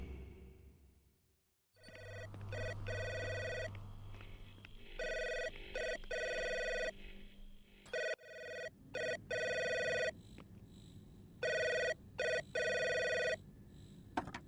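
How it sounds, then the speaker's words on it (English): An intercom in Three Minutes To Eight rings in repeated electronic bursts of bell-like tones, several rings separated by short gaps, loud and close with no talking. "That damn intercom is still ringing."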